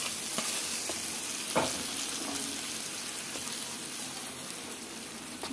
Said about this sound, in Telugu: ఇంకా తాలింపు కూడా వేసుకుంటున్నానండి చట్నీలోకి.